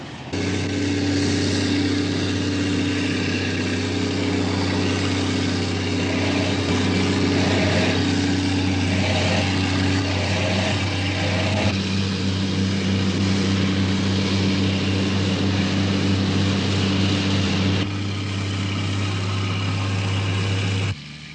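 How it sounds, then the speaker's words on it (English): A heavy diesel engine of a combat engineer tractor runs steadily at a loud, close idle, a deep constant drone with mechanical rattle throughout. "The Sappers Combat Engineer Tractor is a highly versatile vehicle"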